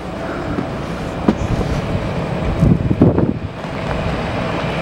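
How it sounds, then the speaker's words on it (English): A coach's diesel engine runs in a depot yard in Brixton, a steady low rumble with a few louder bursts and wind buffeting the microphone throughout. "We are in the yard in Brixton and the coach has just come in here."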